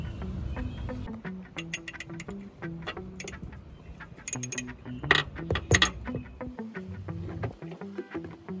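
Screws being backed out of the wastegate actuator on a BMW 328i, a run of close, rhythmic metallic ratcheting clicks with a few sharper taps and clinks, no voices.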